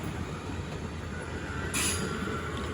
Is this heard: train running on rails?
yes